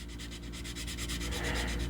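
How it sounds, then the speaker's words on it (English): Steady back-and-forth scraping of a rough sanding stick on a model kit, a close, rhythmic rasping rub in even strokes throughout. "we're just going to use the old sanding stick."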